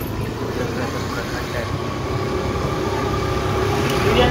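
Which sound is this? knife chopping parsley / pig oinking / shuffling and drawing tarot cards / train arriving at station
train arriving at station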